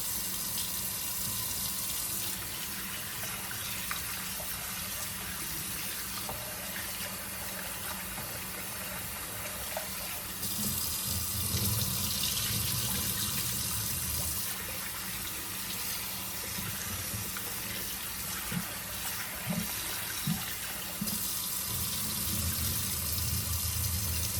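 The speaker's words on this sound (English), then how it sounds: "let's give this a good rinse in the sink" A kitchen sink tap runs for a long stretch while collard greens are rinsed under it, a steady splashing rush with shifting tone as the leaves are moved through the stream.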